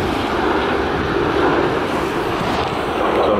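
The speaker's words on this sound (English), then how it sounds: "There's a plane coming in." An airplane coming in to land roars as a broad, steady rushing drone, loud and continuous throughout, mixed with some wind noise and no speech.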